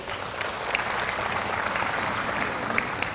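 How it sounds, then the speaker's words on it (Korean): An audience claps for a company chairman during a self-development lecture, a continuous dense wash of applause at steady volume with no talking. "우리 회장님 박수 한번, 김국길 회장님"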